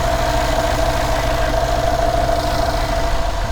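A 2013 Mercedes-Benz AMG E63 engine idles steadily while warming up after a coolant leak repair, a constant low rumble with a faint mid-pitched whine, close and with no talk.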